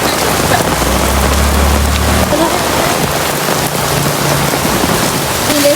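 Heavy rainy-season downpour with a steady, dense hiss of rain close by, plus a low droning hum through the first couple of seconds and a fainter tone later.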